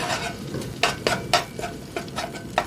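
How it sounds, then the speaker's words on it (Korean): Minced garlic stir-fried in perilla oil for a mushroom and burdock soup: a steady close sizzle broken by repeated scraping stir strokes of a utensil against the pan, with no talking. "살짝 볶아주세요."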